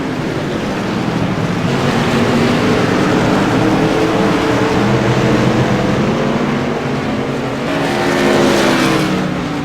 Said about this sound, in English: the Tour modified passing through Scott Naslund into the backstretch